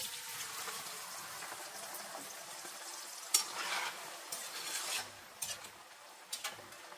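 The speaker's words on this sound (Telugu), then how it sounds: "ఇప్పుడు పన్నీర్ వేసి ఫ్రై చేసుకోండి" Paneer fries quietly in a pan for a dhaba-style kaju paneer masala, giving a soft, continuous sizzle broken by a few louder scrapes and knocks of a spoon stirring.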